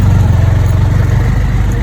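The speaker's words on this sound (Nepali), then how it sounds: "उताबाट बाइक आइरहेछ एउटा" A motorcycle engine runs steadily at close range, a low, throbbing mid-pitched drone that holds at a constant loud level with no pauses and no voices over it.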